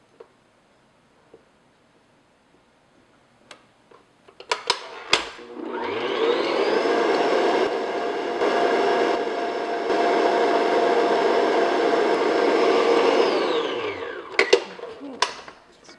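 Electric mixer creaming butter and sugar for banana chocolate cupcake batter, a loud steady whirring drone running about ten seconds, framed by a few sharp bowl knocks and clatters before and after.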